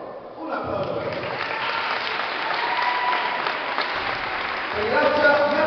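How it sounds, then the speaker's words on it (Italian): A crowd at a karate award ceremony applauds, a dense, steady patter of many hands clapping that runs throughout and swells slightly near the end, with a voice briefly heard over it. "Un applauso."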